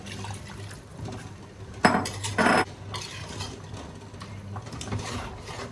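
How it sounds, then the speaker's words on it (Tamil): A spoon scrapes and clinks against a bowl of biryani rice and water in two quick bursts of stirring, then quieter sloshing continues. "நல்லா கிண்டி விட்டுக்கலாம்."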